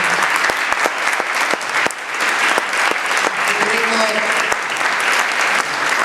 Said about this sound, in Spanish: lo despedimos con un aplauso